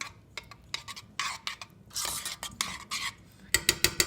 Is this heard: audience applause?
no